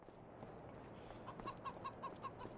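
Chickens in the Farming Simulator 25 video game cluck in a quick series of short, regular calls over a soft, steady farmyard background, fairly close and with no talk.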